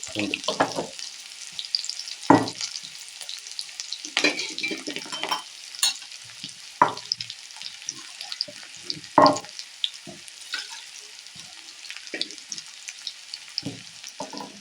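Shallots, green chillies, dried chillies and garlic sizzle steadily in hot oil, with sharp crackling bursts and occasional stirring clatters close by, no voices present.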